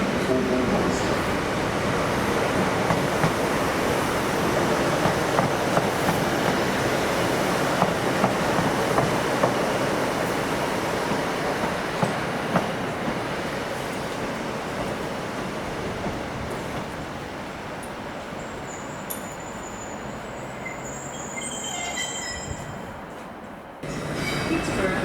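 Trains rumble through Newcastle Central Station in a long, loud, continuous roar of rolling stock, with wheel squeal and clatter toward the end.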